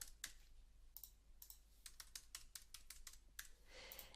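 Quiet, irregular keystrokes on a computer keyboard as a password is typed, about a dozen crisp clicks in uneven bursts with short pauses, close and alone with no talking.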